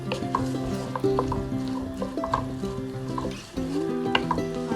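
Onions for gosht pilau stirred in a frying pan, with a steady sizzle under clinking and scraping of a spoon against the pan, close and fairly loud, no talk.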